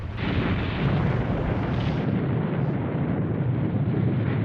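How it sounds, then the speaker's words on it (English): A loud, sustained explosion rumbles in the Nancy Drew game The White Wolf of Icicle Creek, a broad roaring blast that fills several seconds and slowly thins out. "Sounded like an explosion."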